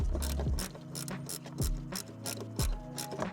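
Ratchet wrench loosening the windshield bolts on a Glasspar G2 boat, giving quick repeated clicking bursts with a few heavier clunks, close up and with no talking.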